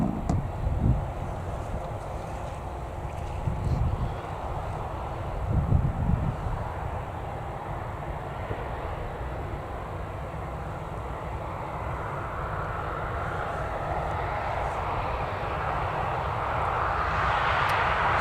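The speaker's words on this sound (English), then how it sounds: "we've got the Eastern Airways approaching finals" An Eastern Airways airliner on final approach into Newcastle Airport, a steady distant engine roar under wind noise that builds gradually toward the end, with no talk.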